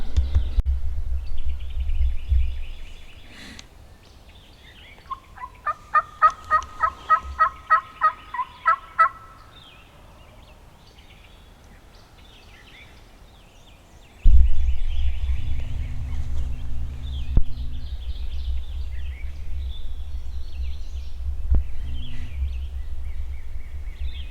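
Wild turkeys gobble on an Arkansas spring morning at opening day, a rapid rattling series of calls at middle distance against steady wind and outdoor rumble, with another call later.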